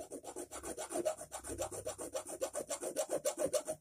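A rusty old claw hammer is sanded smooth by hand, giving a quick, regular back-and-forth rasping, about six strokes a second, close and alone.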